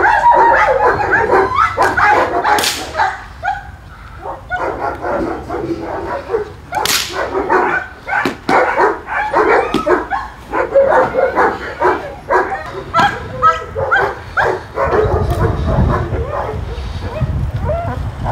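A border guard service dog barks loudly and close by in sharp repeated bursts, mixed with yips and a little whimpering, over about eighteen seconds.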